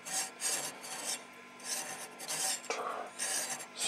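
The tuning control knob of a Lafayette HA-225 communications receiver scrapes as it turns, giving close, raspy rubbing strokes in repeated bursts with brief pauses, no speech.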